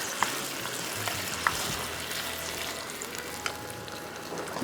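Chicken Manchurian is tossed and mixed in a hot pan: a steady, close frying hiss runs continuously, with a few sharp spoon clicks against the metal.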